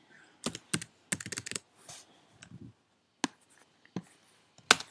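Keys click in quick bursts on a MacBook Pro keyboard, close and crisp, separated by short pauses and a few louder isolated taps, with no talking.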